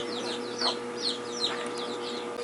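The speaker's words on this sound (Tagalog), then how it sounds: "nag-aawa yung mga manok." Chickens cluck and squawk faintly in a few short bursts over a steady low hum, somewhat distant and quiet, with no talking.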